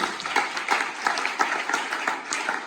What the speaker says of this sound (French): On acclame très fort le Seigneur.